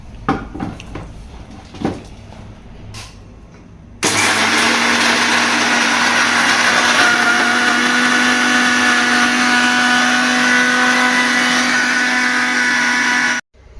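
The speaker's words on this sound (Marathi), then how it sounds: "आता ना सगळ्या वस्तू मिक्स आपल्याला दळून घ्यायचं आहे" Mixer grinder whirring loudly as it grinds roasted ingredients into homemade protein powder, a steady high-pitched motor roar starting abruptly after a few seconds of faint clatter and running continuously before cutting off.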